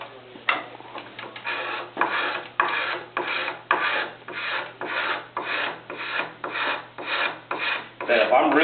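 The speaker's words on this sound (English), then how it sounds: "if I'm really trying to get a good finish on a leg, I'll just go ahead and do my scraper." A hand scraper rasps along a wooden chair leg in steady, evenly spaced strokes, each a dry, close scraping swipe repeated about twice a second with no talk.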